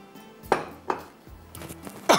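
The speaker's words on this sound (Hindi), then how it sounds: "इसको यहाँ पर हम इसका बैटर बना लेंगे पतला सा" Utensil clinking against a bowl while a thin batter is mixed for shahi qeema chawal: a few sharp metallic taps and scrapes spaced irregularly, close and moderately loud, with no talking.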